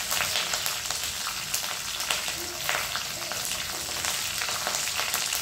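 Curry leaves fry in hot oil, a continuous crackling sizzle with sharp spitting pops, close and moderately loud.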